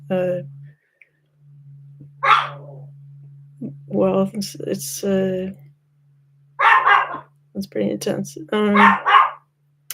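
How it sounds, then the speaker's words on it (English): A person speaks in short phrases while a dog barks a few times in between, with a steady low hum running underneath. "Sorry about my dog barking."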